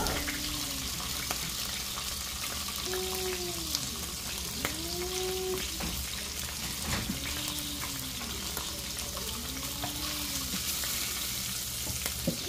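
A pork chop fries in a pan with a loud, continuous close-up sizzle and crackle. Music plays underneath, with no talking.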